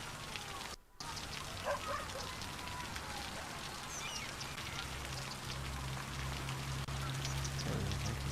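Rain in the video game Cities Skylines, a soft steady hiss of falling rain with a brief dropout near the start and faint scattered chirps over a low hum.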